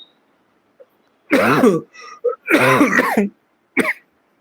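Several harsh, close coughs and throat-clearing bursts in quick succession, separated by short pauses.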